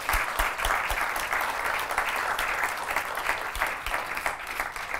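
An audience at a high-school competition final in Montpellier applauds the winner, with dense, sustained clapping that stays loud and even throughout, and a few sharper claps standing out near the front.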